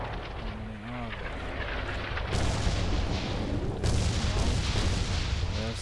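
Battlefield gunfire and heavy booms in Red Orchestra 2, a sustained loud barrage of shots and explosions with a rumbling low end, voices talking over the fighting.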